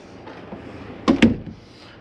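Doors on a 2011 Avalanche 320RK fifth-wheel camper are shut and latched, giving two quick close thumps in succession against a quiet interior background.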